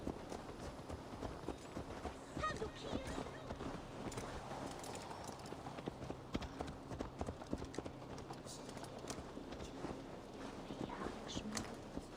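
Steady clip-clop of horse hooves walking at an even pace, fairly faint, with soft background noise throughout.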